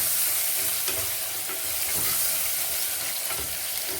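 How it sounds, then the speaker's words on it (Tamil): Tomatoes for prawn biryani sauté in a pan with a loud, continuous hissing sizzle, broken by soft repeated scrapes of stirring. "இப்போ இதையும் நல்லா வதக்கிக்கிறணும்"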